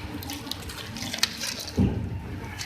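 Water drains from grated radish held in a strainer over a bowl. It gives a faint, steady trickle, with a few soft drips and one fuller splash partway through.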